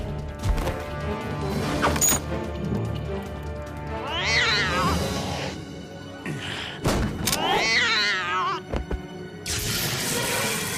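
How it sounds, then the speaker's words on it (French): A cartoon tomcat meows and yowls in several wavering cries amid loud thumps, crashes and slapstick impacts, with brief voices and abrupt cuts between bursts. "Un matou qui crache des mines, on aura tout vu!"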